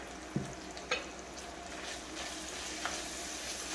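Breakfast pizza ingredients get stirred in a frying pan, a soft steady sizzle broken by a few sharp clicks of a utensil against the pan.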